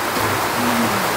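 Rain falls during an outdoor Tihar bhailo gathering, a dense steady hiss of broadband noise with a faint tonal hum underneath.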